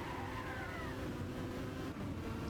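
BMW Z4 race car engine from Venator Racing's number 36 in a racing game, a steady loud roar with a rising gear whine, continuous and close, no talk.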